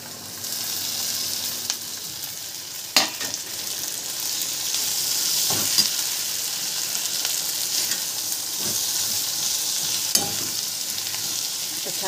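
Okra frying with turmeric in a hot pan, a steady loud sizzle running throughout, broken by a few sharp stirring clanks and scrapes of the spoon against the pan.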